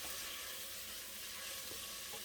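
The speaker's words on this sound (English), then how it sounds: "I'm going to stir this around" Sage being stirred into a mixture in a pan for red beans and rice, heard as a steady, soft broadband sizzle and scrape that holds without a break and carries no talk.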